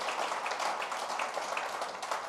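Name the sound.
applause in church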